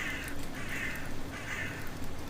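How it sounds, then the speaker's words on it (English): Several harsh caws from crows, three or four repeated calls spaced fairly evenly, moderately loud over a steady background hiss. "the crows that only crow of a night."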